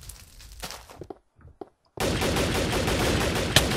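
Bursts of AK rifle fire in a Minecraft gun mod multiplayer battle: a few sparse shots and clicks, a short silence, then a loud, sustained rapid-fire stream with one sharper crack near the end.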